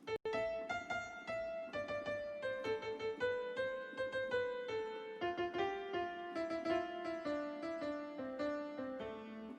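Solo piano plays a solo, a steady run of bright, ringing notes and chords moving in an even rhythm, close and clear with no voices.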